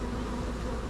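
Honey bees in an open hive give a steady, dense buzz that holds close and continuous, with no voices.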